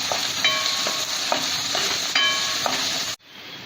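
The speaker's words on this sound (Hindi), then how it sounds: "प्याज अच्छी तरह ब्राउन होना चाहिए, तब तक हम इसे भूनेंगे" Onions frying in ghee for Rajasthani papad sabzi, a loud steady sizzle with rhythmic stirring scrapes of a utensil against the pan every half second or so, cutting off abruptly near the end.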